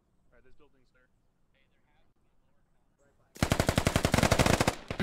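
SAW machine gun fire in the video game Squad, a loud sustained burst of rapid automatic shots that suddenly follows a quieter stretch with soft distant voices.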